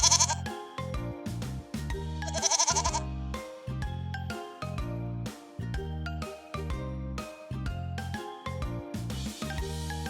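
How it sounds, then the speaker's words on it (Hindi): Goats bleat repeatedly over a bright, jingly musical backing, loud and close, with bleats falling in a steady rhythm. "बकरियां महमे की आवाज निकालती हैं।"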